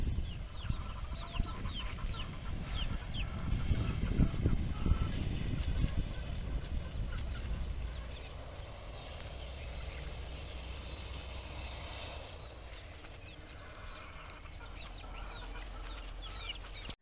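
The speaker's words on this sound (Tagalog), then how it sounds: "Mukhang mas gusto ng mga sisiw ngayon ang kanilang alpasan." Chicks and fowl cluck and peep in a shaded, tree-covered free-range breeding area at a game farm, with steady soft calls over a continuous low background hum.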